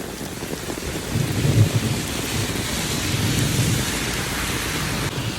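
Heavy rain pours steadily outdoors with rumbling thunder rolling low beneath it, a dense continuous hiss of falling water that swells slightly as the thunder grows.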